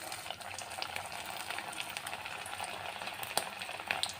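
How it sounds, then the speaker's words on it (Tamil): Fish cutlets frying in hot oil, a steady soft sizzle and crackle with faint pops throughout, fairly quiet and close, with no talk. "இப்போ நம்ம ஆயிலில் போடலாம்."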